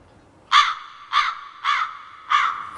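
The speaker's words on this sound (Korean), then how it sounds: "방금 들으셨던 이 오리지널 까마귀죠?" A recorded crow, played back on a Korean TV variety show, caws four times in loud, evenly spaced calls with quiet gaps between them and no talk over it.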